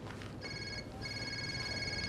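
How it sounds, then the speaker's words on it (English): Telephone ringing in a TV drama scene plays as a faint electronic ring in two short bursts over a quiet room background. "Is that a phone?"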